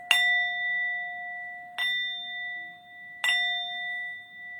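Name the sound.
three bells ringing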